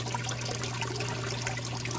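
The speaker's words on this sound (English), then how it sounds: "As you can see, water comes out through here" Water trickles steadily through a gold prospecting water table while black sand is being cleaned, a continuous close splashing flow under a constant low hum, with no talking.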